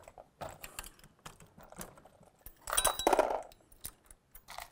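A Dillon RL 550c progressive reloading press is cycled by hand in a steady rhythm, close metallic clicks, ratcheting and clinks with a louder burst of clattering mechanism midway, no voices.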